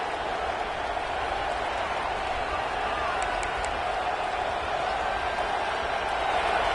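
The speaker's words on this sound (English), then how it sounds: "The roar of the crowd trying to fuel this defense to keep them pinned in their own end" The crowd in a college football stadium at a game against Georgia roars as a continuous, dense wash of noise, holding steady and swelling slightly toward the end.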